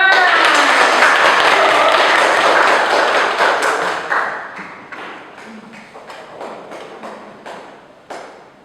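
A classroom of students claps for a presenting group in a lesson on flora and fauna conservation. Dense applause starts loud and close, then thins after about four seconds into scattered, separate claps that trail off.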